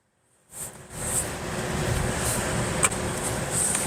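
A 2023 Lexus LC 500h hybrid coupe driving on the road: after a brief silence, a steady rumbling cabin and road noise rises and holds, with a few light clicks and ticks scattered through it.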